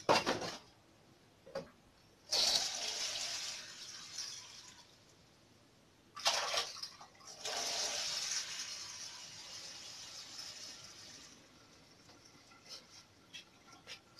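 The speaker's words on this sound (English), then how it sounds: "So I'm adding water into my blender so that it will be easy for me to blend all together." Water poured into a blender jar while making aubergine and butter bean soup: two bursts of splashing, pouring liquid a few seconds apart, close by and fairly quiet, with small clinks and drips between.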